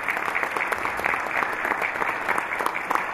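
Sustained audience applause at a 70th-anniversary celebration concert for a People's Artist of the USSR, dense steady clapping from a large hall crowd with no pauses throughout.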